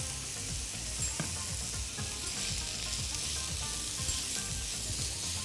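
Onions seasoned with salt and pepper sauté in a pan, giving a dense, even sizzle with faint rhythmic stirring taps underneath, close and moderately quiet, no speech.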